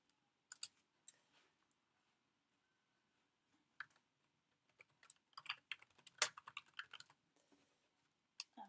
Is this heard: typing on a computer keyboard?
yes